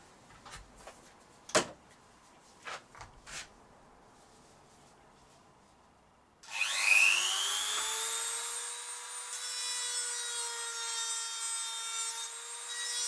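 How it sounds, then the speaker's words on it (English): A Dremel rotary tool trims plastic ribs and a lip off a motorcycle heated grip. A few sharp knocks and handling sounds come first, then the tool spins up to a loud, steady, high-pitched whine that holds to the end. "trim these ribs down and also get rid of that lip at the end. So let's do that with a Dremel again."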